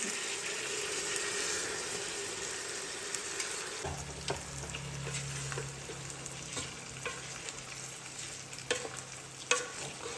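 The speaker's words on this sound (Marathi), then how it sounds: "तर तांदूळ टाकले आणि मिक्स करून घ्यायचे" Rice stirred into fried onion masala in a pan: a busy sizzle with repeated scraping and clattering strokes of the spoon, loud and close, with a low hum joining partway through.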